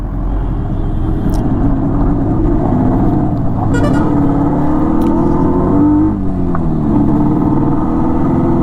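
A Yamaha RD 350 motorcycle riding along a countryside road in the evening, its engine a loud continuous buzzing drone from close by, rising and falling with the throttle, with no talk.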